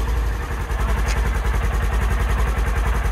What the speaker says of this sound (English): that's a nice, calm, peaceful sounding motor right there